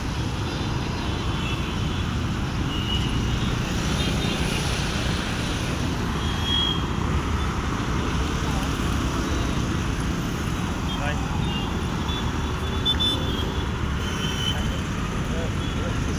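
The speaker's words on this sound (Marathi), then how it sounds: "ते गाड्यांची वाहतूक" Vehicle traffic on the Solapur road highway makes a steady roar of passing engines and tyres, filling the whole stretch as a continuous wash without clear breaks.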